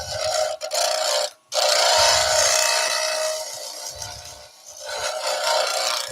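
A wooden magic wand scraped on a wood lathe, giving a continuous rasping, scraping hiss that drops out briefly twice, loud and close over the low hum of the spinning lathe.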